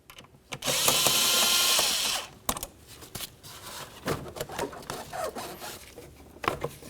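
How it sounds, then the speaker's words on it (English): Air inlet tube being pulled off the throttle body of a 2006-2012 Ford Fusion, with close rubbery scraping, a sustained harsh hissing rasp, then scattered clicks and plastic rubbing. "Now let's remove our inlet tube."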